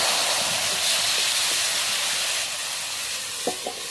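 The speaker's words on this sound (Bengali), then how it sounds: "মশলাটা ভালোভাবে কষিয়ে নেবো," Spice masala for a crab curry fries in a pan with a steady, bright hiss and sizzle, fading slightly midway, with a couple of soft stirring knocks near the end.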